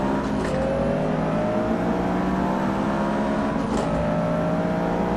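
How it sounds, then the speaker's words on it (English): A Honda B16 VTEC engine in the racing game Forza 6 at Watkins Glen revs hard and climbs through the gears, a loud, close, continuous rasping drone with rising pitch sweeps and brief dips at shifts. "Listen to that B60, man. I want that VTEC."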